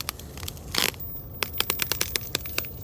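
Dry, crisp cracking and crunching as a mature corn ear with dry silks is snapped off the stalk during harvest, one loud close crack followed by a quick string of smaller rustling snaps.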